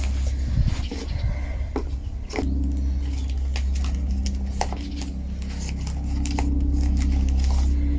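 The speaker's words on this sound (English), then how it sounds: "I'm going to sellotape it down so that the cutting doesn't move around inside of there" Sellotape is pulled off the roll and pressed onto a plastic container lid while a plant cutting is packed for posting, giving close, sticky ripping and crackling with short tearing bursts and no talk.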